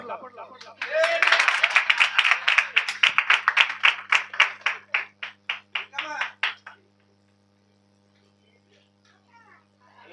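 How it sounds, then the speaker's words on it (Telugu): A group claps in a steady rhythmic beat at a family ceremony honouring Dr L Kamala Rani, the loud claps thinning out and stopping after about seven seconds, with voices mixed in. "చప్పట్లో"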